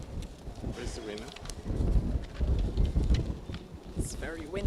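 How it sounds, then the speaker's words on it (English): Gusty wind buffets the microphone at an outdoor media awards ceremony, a steady low rumble with surges, while people talk over it and a bird calls briefly near the end. "It's very windy."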